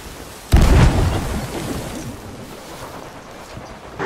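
Ship cannon fire in a naval video game: a loud booming blast at sea, followed by a rolling rumble that decays slowly over water and surf noise, with a lighter second thump near the end.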